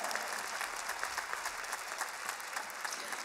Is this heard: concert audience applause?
yes